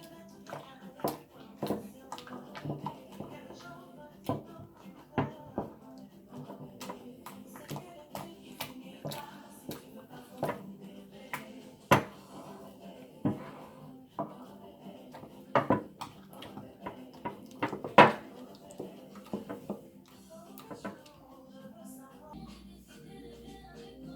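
A homemade exfoliating, brightening soap mixture being mixed by hand in a container: irregular sharp clinks and taps of utensil against vessel, close and quiet, with uneven pauses between strokes.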